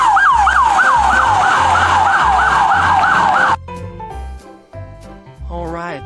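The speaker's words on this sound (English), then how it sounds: "this is a police car" Toy police car siren wailing in a fast, looping rise-and-fall pattern, loud and close, then cutting off into quieter clicks and short electronic tones.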